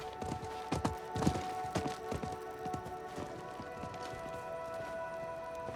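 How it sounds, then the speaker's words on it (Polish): Horse hooves clip-clop steadily along a road in a fantasy role-playing video game, a near, rhythmic run of knocking steps over a droning musical background. "To był chyba koń kupca."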